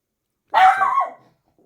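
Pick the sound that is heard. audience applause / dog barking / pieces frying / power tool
dog barking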